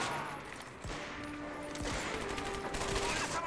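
Gun firing in the World War II shooter Medal of Honor: Vanguard, a dense fusillade of overlapping shots with rattling automatic bursts, steady and fairly loud across the whole stretch with no talk over it.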